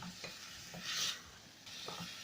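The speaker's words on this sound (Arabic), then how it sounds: "وابدا اقلب فيها لحد لما البصل يدبل معايا بالشكل ده" Onions being stirred as they soften in a pan alongside chicken liver and gizzards: a soft, steady scraping and faint sizzle, quiet and close, with a brighter swish partway through.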